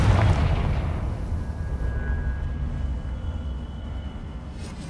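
A Confringo blasting spell explodes in the Hogwarts Legacy game: a heavy, booming blast at the start that decays into a long rumbling tail with a faint ringing tone.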